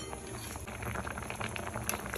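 Fish curry bubbles in a cooking pot, a steady close boil of popping bubbles and gentle liquid churning, heard alone without talk.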